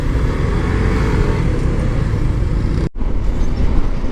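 Dense, heavy road traffic drones continuously around a rider on the way to Pampanga, a loud low rumble of cars and larger vehicles with one momentary cut near the end.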